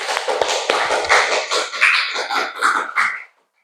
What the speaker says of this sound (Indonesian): Tepuk tangan juga untuk kelompok 2.